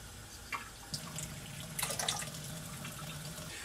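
Water poured from a spoon into Belgian waffle dough in a mixing bowl: a quiet trickle and a few soft splashes over faint room hiss, with no talking.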